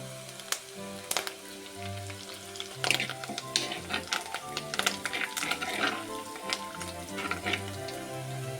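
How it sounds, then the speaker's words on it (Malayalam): Curry leaves dropped into hot oil for a coconut-based anchovy curry spit and crackle in sharp, irregular pops over a steady sizzle, close up and fairly loud, with no one speaking. "നമുക്കതിലേക്ക് കറിവേപ്പില ഇട്ട് കൊടുക്കാം"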